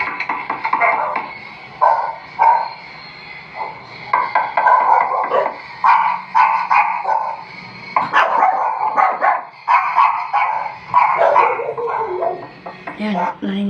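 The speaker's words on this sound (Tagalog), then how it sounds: "Maingay lang yung mga aso." Several dogs bark and yip repeatedly, fairly close, with whimpering between bursts and the noise continuing throughout.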